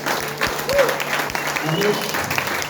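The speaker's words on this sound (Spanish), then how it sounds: "Fuerte el aplauso al Señor Jesucristo." A church congregation applauds loudly and steadily in a worship service, with a voice speaking over the clapping.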